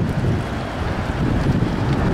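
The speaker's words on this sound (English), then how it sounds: "It's starting to get windy" Wind gusts outdoors roar steadily across a microphone in a thick, rumbling buffet, with no voices.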